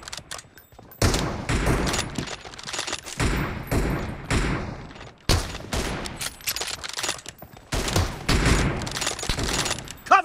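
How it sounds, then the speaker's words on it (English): Rapid bursts of video game gunfire crackle through a room match, coming in loud clustered volleys separated by brief gaps, with sharp thuds mixed among the shots. "No mercy! Dead!"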